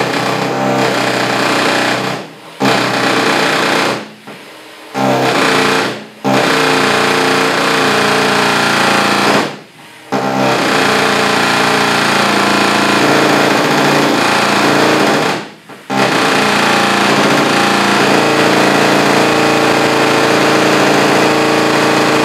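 Electric dent-removal hammer pulling and pushing up a dent in car bodywork, running in a continuous loud rattling buzz for long stretches, broken by several brief pauses where it stops and restarts.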